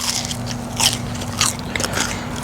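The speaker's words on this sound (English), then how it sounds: "listen to this crunch" Someone bites into crunchy pizza crust from a pizzeria and chews, giving a few sharp close crackling crunches over about two seconds against a low steady background hum.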